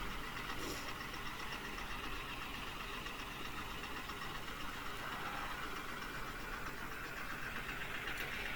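A large double-engine water pump with big pipes runs at a construction site near the High Court in Amaravati, giving a steady, unbroken mechanical drone at moderate distance with no voices over it.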